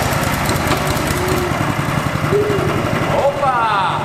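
A small go-kart engine idles and runs steadily with a buzzing, chugging drone, loud and close, briefly revving near the end.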